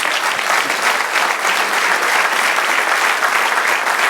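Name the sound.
congregation applauding in church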